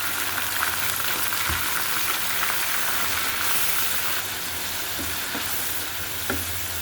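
Water poured into a pan of frying onions for a Bengali mola fish curry sets off a loud, continuous sizzle with occasional stirring clinks, close and steady.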